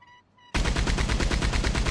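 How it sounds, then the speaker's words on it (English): A Maxim machine gun fires in Red Dead Redemption 2: after a brief quiet moment with a faint tone, a loud, rapid continuous burst of evenly spaced shots hammers on without pause, close and dominant. "Use Maxim gun."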